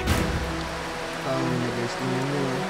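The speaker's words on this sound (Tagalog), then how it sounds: "umuulan talaga dito ngayon" Rain falls steadily on an outdoor work area, a soft patter and drip under faint tonal humming sounds, with a brief louder splash at the start.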